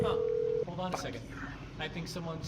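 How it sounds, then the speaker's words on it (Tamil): A phone call placed in GTA 5: a steady dial tone holds for about half a second, then a ringing, warbling call signal follows while game sounds play underneath. "ஃபோன் எடுத்து கால் வைக்கிறான்."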